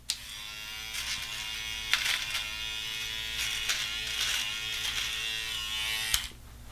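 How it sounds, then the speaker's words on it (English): Andis electric clippers trimming nose hairs, a steady close-up electric buzz running for several seconds with a few clicks and bumps as the trimmer moves, and no voices. "These Andis Clippers are reasonably priced and do the job quickly and easily"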